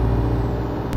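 A big lorry's air brake in the Euro Truck Simulator 2 driving game gives a loud, steady low rumble and hiss lasting about a second, with a short sharp release at the very end.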